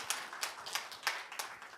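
Church congregation clapping during a Sunday service, a short run of sharp, evenly spaced handclaps at a moderate level with a soft room echo.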